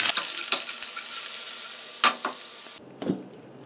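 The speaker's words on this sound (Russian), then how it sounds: "на сковороду разогретую выбрасываем лук с морковкой и обжариваем" Chopped onion and carrot frying in hot sunflower or olive oil in a pan, giving a steady close sizzle with a few stirring scrapes, then quieting after the heat drops.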